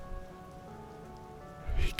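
Steady rain pattering on a surface, a soft continuous wash that swells briefly louder near the end, with no voices.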